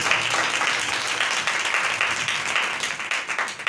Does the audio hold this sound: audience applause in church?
yes